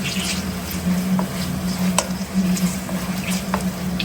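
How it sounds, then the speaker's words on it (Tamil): Mutton biryani ingredients sautéing in hot oil give a steady, close sizzle with faint crackles and a low constant hum underneath, no voices present. "நல்லா எண்ணெயில போட்டு வதக்கிக்கணும்."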